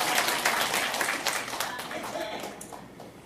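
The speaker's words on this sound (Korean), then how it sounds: "예수님 생일 축하합니다 하고 박수 칩시다" A church congregation claps to celebrate Jesus' birthday at a Christmas service, a loud round of many hands with some rhythmic pulsing that gradually tapers off, with a few voices mixed in.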